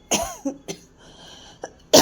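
Several short coughs in quick succession, fairly close, with brief throat sounds between them and a final louder cough at the end.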